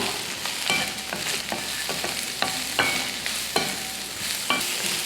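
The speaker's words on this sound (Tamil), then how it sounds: "சேர்த்துட்டு இப்போ இதை வதக்கிக்கலாம்." Bitter gourd pieces with a little salt sautéing in a hot pan, a loud steady sizzle broken by repeated spatula scrapes and stirring knocks at an uneven rhythm.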